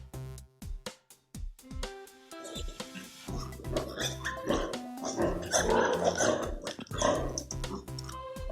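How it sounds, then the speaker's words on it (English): A pig grunting and snorting in short rough bursts, starting with a few isolated calls and then growing into a dense, loud run of grunts and squeals. "Pig."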